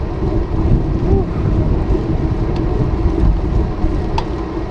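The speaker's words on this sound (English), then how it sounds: "nice and windy now" Steady wind roars and buffets a microphone in a low, continuous rumble for several seconds, with no speech over it.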